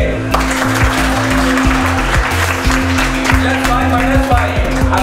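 An audience at a mobile phone repair training institute event claps in a steady, dense burst of applause. A rhythmic low backing beat plays underneath the clapping, and it continues loudly for several seconds.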